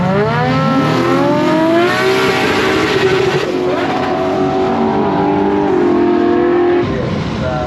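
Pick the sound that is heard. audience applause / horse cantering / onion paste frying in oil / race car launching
race car launching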